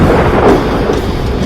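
A loud, deep rumble of thunder rolls on continuously as a sound effect in a rock podcast intro, with no voice over it.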